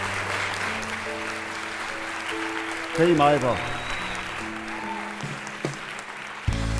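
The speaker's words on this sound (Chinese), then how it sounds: "来宾请掌声鼓励。" Audience applause at a Chinese pop song performance, a short burst of clapping that swells and fades under a host speaking, with music tones continuing.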